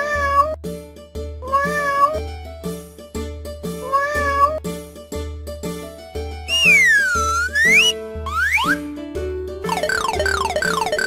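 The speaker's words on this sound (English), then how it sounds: "Cat." A cartoonish cat meows in bright, repeated calls over a bouncy children's tune with steady bass and melody, followed by sliding whistle-like effects; the meows sit up front and loud.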